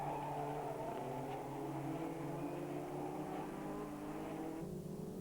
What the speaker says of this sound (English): These very rapid Caterham Vauxhalls giving a splendid race